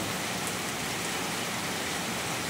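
Steady rain falling at night, a dense even hiss filling the whole stretch with no break, close and fairly loud, with no voices.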